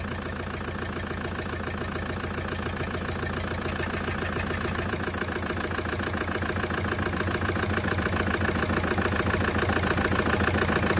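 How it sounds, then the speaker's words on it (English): An engine with a cracked, holed piston runs continuously at a steady idle with a rough, rhythmic chuffing pulse like a steam train, loud and close, with no voices. "Every time that chuff, chuff, chuff like a steam train, that is blowing through the hole in the piston."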